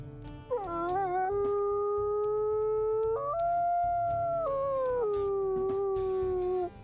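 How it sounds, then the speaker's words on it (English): A single drawn-out wolf howl from the video game WolfQuest rises in steps and holds a clear wavering tone for about six seconds, loud and close with no talk. "We'll also go ahead and we'll listen to his howls here."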